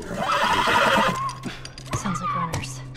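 A horse neighs and whinnies in The Last of Us during a tense moment, a loud rising whinny up close followed by snorts and shifting hooves, with a voice speaking over part of it.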